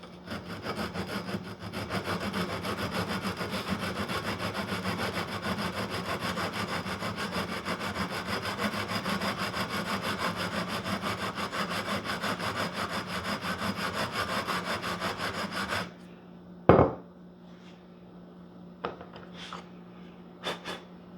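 A file rasps steadily back and forth across guitar frets to put a small bevel on their ends, a continuous close scraping for about sixteen seconds before it stops, followed by a sharp knock and a few faint taps.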